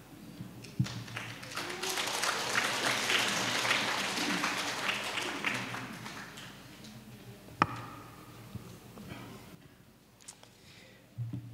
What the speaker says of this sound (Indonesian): tapi tepukannya kurang meriah ya